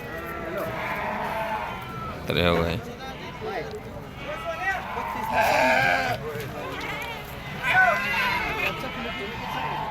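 Sheep bleat repeatedly amid a busy crowd at the Atpadi weekly sheep and goat market, close and loud, with someone talking over the animals and market chatter throughout.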